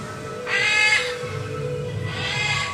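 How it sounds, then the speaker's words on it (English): At a zoo park in Miami, a bird calls twice in loud, hoarse bursts about a second and a half apart, standing out over low background murmur with no speech. "And of course I hear the bird over there saying hello."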